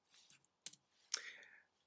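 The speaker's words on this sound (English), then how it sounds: "I'm going to push enter on the keyboard" A few sharp clicks from a computer keyboard and mouse while editing in Photoshop, close and isolated, including one firmer key press followed by a brief rustling tail.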